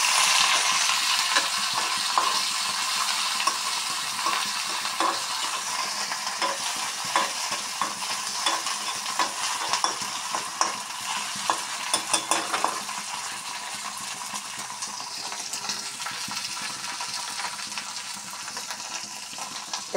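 Dried fish frying with onions and green chillies in oil for a chutney, a continuous close sizzle broken by frequent spatula scrapes and light clinks against the pan.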